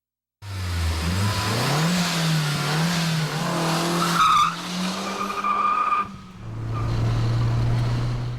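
A modified car with an air intake, special exhaust and mag wheels drives fast, its engine revving loudly as the tires squeal and skid through a hard turn, close and continuous.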